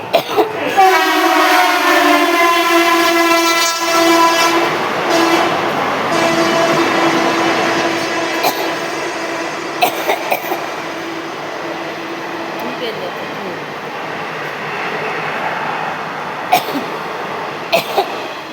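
A through train passes platform number 4 at a railway station. A loud horn blares at the start over a steady, close rolling rumble of wagons that continues throughout, with a few sharp clanks toward the end.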